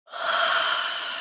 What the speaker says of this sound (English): We're going to breathe in